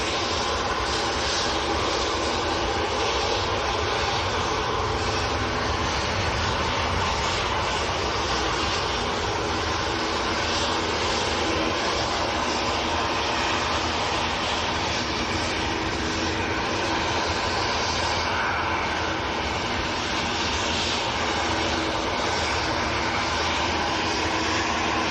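EasyJet airliner departing Manchester Airport for Rome, a steady, broad jet engine roar held at even loudness for the whole stretch, fairly distant, with no talk over it.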